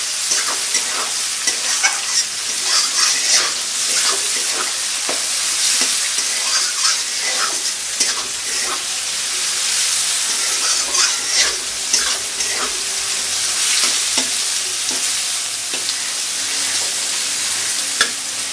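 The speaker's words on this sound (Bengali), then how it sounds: "মোটামুটি কতক্ষণ লাগবে পেঁয়াজ ভাজা?" Onions fry in a pan while being stirred, a continuous loud sizzle broken by repeated scraping and stirring strokes, close up and with no talking.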